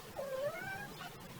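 A house cat gives a single short meow nearby, rising then falling, over a quiet room hum with no one speaking.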